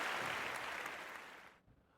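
Brief burst of audience applause at a live podcast recording in St. Charles, dense clapping that fades and cuts off after about a second and a half.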